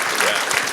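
Podcast audience giving a round of applause to a guest, a short burst of dense, loud clapping with a few cheering voices mixed in.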